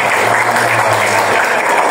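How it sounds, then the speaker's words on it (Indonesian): A workshop group in a training room bursts into steady, dense applause, a continuous close wash of many hands clapping together without a break for the full two seconds. "kita tepuk tangan untuk kita semua"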